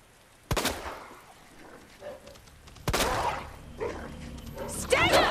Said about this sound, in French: Des chiens zombies.